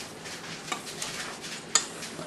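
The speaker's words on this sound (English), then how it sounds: "Just mix this all up." Ingredients for fried chicken, including a measured powder, being stirred together in a bowl, with soft scraping and a few light clinks of utensil against the bowl, fairly quiet and close.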